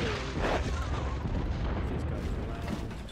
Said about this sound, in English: Here is our artillery.